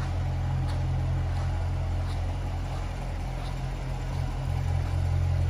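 A 2018 Corvette coupe engine idles steadily with a low, chugging rumble that stays constant throughout, with faint clicks above it and no talking.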